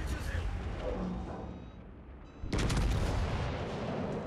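Yamato battleship gunfire in a naval combat game, heard as a sudden heavy boom that rolls into a sustained rumbling blast after a quieter stretch of engine and ambient noise, fairly close and loud.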